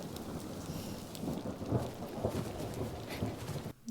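Steady rain pours in an X-Men '97 episode scene while low thunder rumbles and swells through it, a dense continuous wash that drops away briefly at the very end, with no talk.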